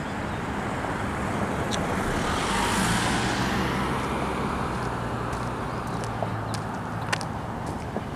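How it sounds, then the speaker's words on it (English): Afternoon street traffic passes along Church Circle in downtown Kingsport, a continuous moderate roadway wash with one vehicle swelling by in the middle and faint distant clicks, no talking. "Traffic's starting to pick up."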